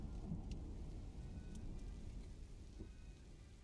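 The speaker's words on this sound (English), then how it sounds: "Look at that rain, huh?" Rain and thunder in the video game This Is The Police make a faint, steady patter with a low rumbling bed beneath, heard alone at low volume.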